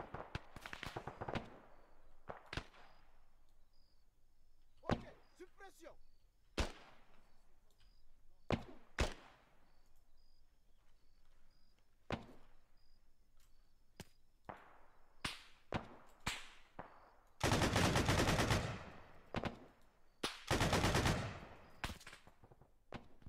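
Scattered gunfire in a military shooter game: sharp isolated shots spaced across the stretch, then two dense loud bursts of rapid fire near the end, with a voice talking at points between.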